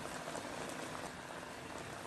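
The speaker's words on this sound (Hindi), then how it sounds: "ऐसे लेके आपने गर्म पानी इसके ऊपर बस उडेलते जाना है।" Hot water poured steadily over kebabs cooking in a handi gives a continuous hissing, bubbling wash of liquid, close and even, with no voices.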